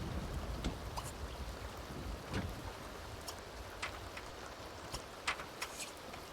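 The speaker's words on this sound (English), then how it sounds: "Get out of the rain." Steady rain falls with a dense, hissing wash and scattered sharp droplet ticks and splashes throughout, with no voices.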